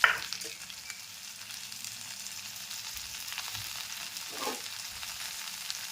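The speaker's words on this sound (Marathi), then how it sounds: "त्याच्यात मी 1-2-3 चम्मच तेल घालून भाजून घेते." Ambadi leaves roasting in a pan with a few spoonfuls of oil, giving a soft, steady sizzle with a light stirring scrape near the start and another brief scrape later, close but fairly quiet.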